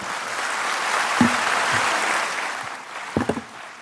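Loud applause from an audience welcoming a chief guest at a Dhamma Vijay Divas gathering in Delhi NCR, a steady wash of clapping with a few sharper claps and knocks near the end.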